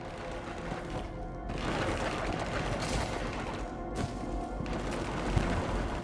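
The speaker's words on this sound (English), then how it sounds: "Gunfire. They are near." Sustained gunfire and distant explosions from a firefight in the video game Mass Effect 3, a dense, continuous rumble of shots with rising and falling swells and no voices.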